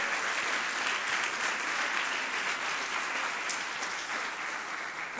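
A church congregation breaks into sustained, dense applause, many hands clapping steadily and loudly for several seconds without pause, the roar fading slightly toward the end.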